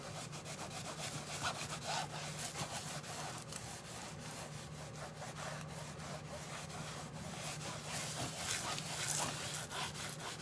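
Foil transfer paper is scrubbed over a drawing in fast, steady rubbing strokes, a close, continuous scratchy scraping with a fairly even rhythm.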